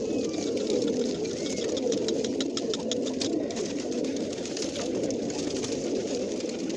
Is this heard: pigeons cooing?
yes